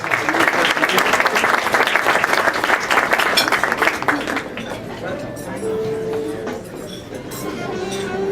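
Audience applause at a student success dinner, a dense burst of clapping that tapers off after about four seconds into quieter room noise with voices.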